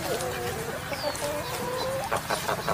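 Chickens clucking in a Polish TV advert, a close brood of busy, overlapping clucks and short squawks filling the short stretch, with a voice murmuring underneath.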